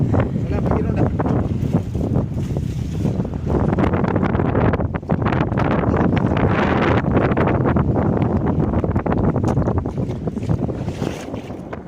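A longline fishing boat runs across open sea back toward shore, its engine a constant loud drone mixed with heavy wind buffeting and splashing water for the whole stretch; no clear speech.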